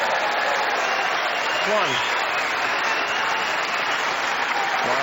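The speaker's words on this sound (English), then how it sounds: "this crowd at the Alexandra Palace erupting" A packed crowd at Alexandra Palace applauds at the end of the snooker Masters final, loud sustained clapping throughout, with a commentator speaking over it.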